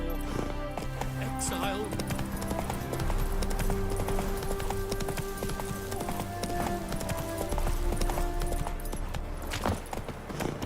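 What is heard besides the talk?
horse galloping, ridden in the video game Witcher 3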